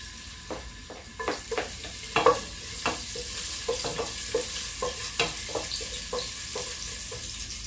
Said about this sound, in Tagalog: Yan, magigisa na po tayo.